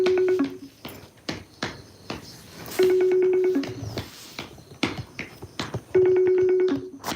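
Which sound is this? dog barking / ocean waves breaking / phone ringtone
phone ringtone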